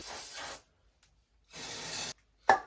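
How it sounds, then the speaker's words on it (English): Compressed air sprays into the oil holes of an OM647 diesel crankshaft in three sharp hissing bursts: two long blasts and a short final puff, close and loud with silence between. "I'm gonna just spray out each hole with some compressed air"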